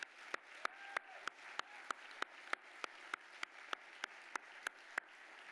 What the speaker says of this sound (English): how about a round of applause for those young leaders that came up here